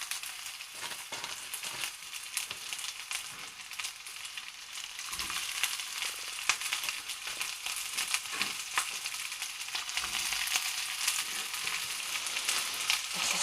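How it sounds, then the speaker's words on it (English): Onion and red pepper frying in a pan, a loud, steady crackling sizzle with occasional stirring scrapes and thumps, growing slightly louder toward the end, close and without speech. "So the rest of the onion goes in, and the red pepper."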